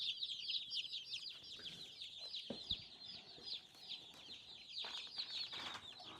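Chickens cluck and chatter continuously at a moderate distance, with a few sharper calls and brief rustles among them.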